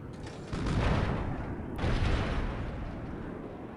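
Heavy artillery barrages rumble in Civilization IV, a dense roar of booming low-end blasts that swells twice and stays loud throughout, with no talk over it.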